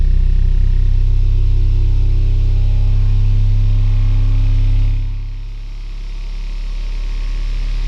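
Sovol SV07 3D printer running a resonance test, its print head vibrating as a loud, steady low hum and drone that holds for about five seconds, then drops in level and shifts to a slightly different tone.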